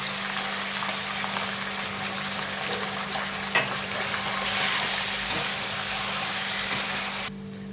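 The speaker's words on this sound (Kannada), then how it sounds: "ಅರಿಶಿನ ಹಾಕಿ ಚೆನ್ನಾಗಿ ತೊಳೆದಿರೋ ಚಿಕನ್ ಹಾಕ್ತೀನಿ." Washed chicken coated with turmeric sizzling in a pan over fried onion, a loud, continuous close hiss that swells midway and cuts off abruptly near the end, with no talking.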